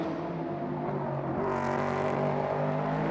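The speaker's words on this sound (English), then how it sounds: "Glorious sound of that Aston Martin V8 coming down now past us" Aston Martin V8 race car roars past during qualifying at the WEC 6 Hours of Mexico, its engine note rising and sweeping by close and loud over a continuous track-side drone.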